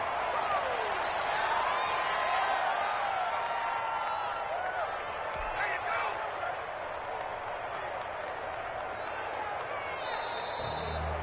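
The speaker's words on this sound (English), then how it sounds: "And the home crowd applauding." A home crowd applauds at a football game between the Broncos and Dolphins, a steady wash of clapping and crowd noise throughout, with scattered whistles and voices mixed in.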